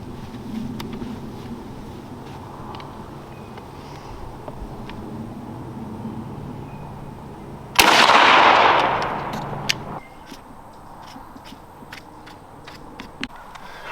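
A shotgun loaded with 3-inch #2 shot fires once through an improved modified choke outdoors: one sharp, loud blast that dies away over about two seconds against a quiet background.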